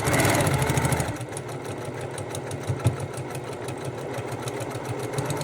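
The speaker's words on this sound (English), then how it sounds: "So we're going to sew on the line." A sewing machine stitches a quilt block for hourglass and birds-in-the-air units, running with a steady fast mechanical whir and rhythmic needle chatter, briefly louder at the start before settling to an even pace.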